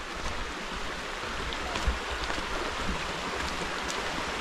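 A rural provincial creek with murky water flowing steadily, a faint continuous babbling wash with small splashy bursts, no voices.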